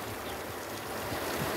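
The Pinhacó River in flood at Conceição, Paraíba, roaring past behind a church: a constant, full-bodied wash of churning water, close and even in level, with low rumbling surges and no speech over it.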